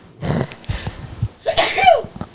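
A short sharp sneeze bursts out after a couple of brief breathy sounds, close and fairly loud.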